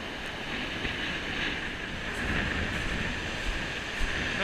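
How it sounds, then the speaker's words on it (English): Strong wind roars steadily across the shingle of Chesil Beach during an October sea-fishing session, a constant broadband rush with slight gusting swells and no voices. "That wind is definitely getting up."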